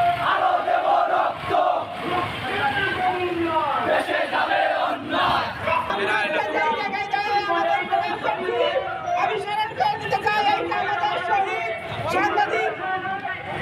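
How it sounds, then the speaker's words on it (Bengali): A crowd at a memorial march in Sylhet chants slogans in unison, rhythmic shouted phrases repeating loudly and close, with a lead voice and scattered chatter around the group. "শেষ হয়নি যুদ্ধ, সবাই একসাথে স্লোগান দিতে হবে।"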